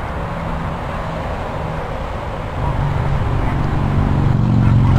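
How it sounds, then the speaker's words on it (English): A yellow Ferrari's engine hums steadily as a low continuous drone that swells louder partway through, heard with road and traffic noise around it. "Or a yellow Ferrari."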